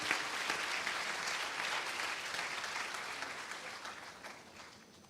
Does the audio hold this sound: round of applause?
yes